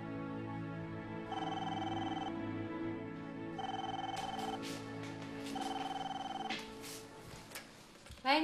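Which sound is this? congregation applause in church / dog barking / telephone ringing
telephone ringing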